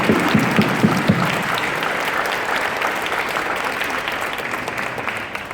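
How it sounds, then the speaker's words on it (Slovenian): Hall audience at a culture-day show applauding for Prešeren's birthday, dense sustained clapping loud and close, continuing steadily with a few sharper claps early on and no talk. "prosim, da vsi zaploskamo za to, da mu gre dobro"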